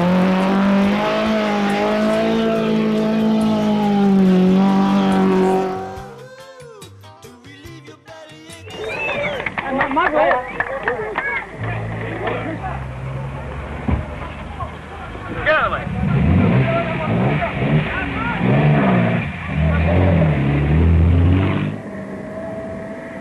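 Rally car on a rain-soaked Kenyan Safari Rally road, engine revving and roaring through gear changes at close range, mixed with a narrator talking over much of the run.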